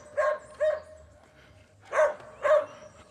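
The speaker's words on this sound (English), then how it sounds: "This dog making all this noise for." A dog barks four times, close and loud, in two pairs, at a house on Christmas Day during a parang visit, with no talking over it.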